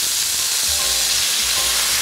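Chicken sizzles and fries loudly in a pan, a dense continuous hiss with a few soft low bumps from the pan underneath.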